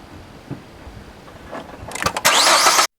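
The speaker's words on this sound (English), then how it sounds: "So we crank it." A car engine cranks with a few weak turns, then catches and roars into a loud, steady run near the end, close by with no talk.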